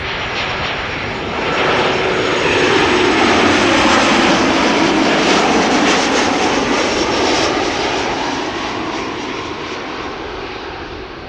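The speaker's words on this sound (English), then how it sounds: "This is arriving from Leeds, KLM 737-800." A KLM Boeing 737-800 jet arriving from Leeds comes in to land at Amsterdam Schiphol, its engine roar swelling loud and close, then slowly fading as it passes, with no voices.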